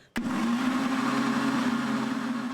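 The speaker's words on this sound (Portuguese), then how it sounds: "misture no liquidificador com 3 colheres de sopa de maionese, um pote de iogurte sem açúcar e sem adoçante e um pouco de sal" A kitchen blender starts abruptly and runs steadily, whirring loud and continuous as it mixes mayonnaise, unsweetened yogurt and a little salt.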